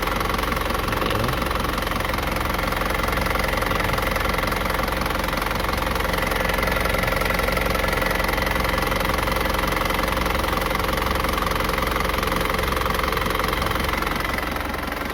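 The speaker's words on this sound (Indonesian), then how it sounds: "Ini mesin masih bagus ya, tidak ada keluar asap dari dipstick" A 2006 Isuzu Panther Grand Touring diesel engine idles steadily for the whole stretch, a close, continuous knocking rumble with a constant mechanical hum and no voices over it.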